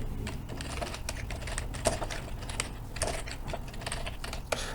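Close, steady typing on a computer keyboard during spreadsheet work, a dense run of quick key clicks with occasional louder keystrokes and no voices.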